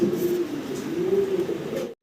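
Soft, low cooing of fancy pigeons rolls on continuously at close range, a gentle throaty murmur with no other sounds.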